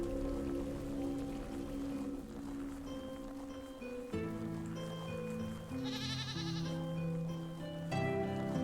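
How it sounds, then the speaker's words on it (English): A goat bleats in the video game Caves of Lore, its wavering calls sitting among steady background game music and ambient sounds, with a brief splash-like burst near the end and no talking. "I hear goat. Where's the goat?"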